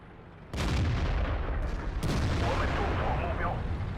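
Heavy tank cannon fire in World of Tanks, with a sudden loud blast that rolls into a sustained rumbling roar over the clip's remaining seconds.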